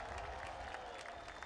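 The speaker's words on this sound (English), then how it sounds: "Let's give her another round of applause." Faint, distant audience applause at an outdoor street-naming ceremony, a steady patter of clapping from a crowd.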